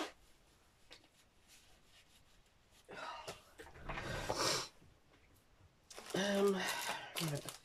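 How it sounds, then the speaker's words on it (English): A person blows their nose indoors in a few loud, breathy bursts, two longer honking blows separated by quieter rustling. "I just need to blow my nose"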